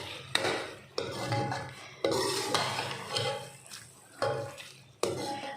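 Crushed ingredients being mixed into carrot halwa in a pan: a series of sharp spoon-on-metal knocks and scrapes, about six strikes spaced roughly a second apart, fairly close.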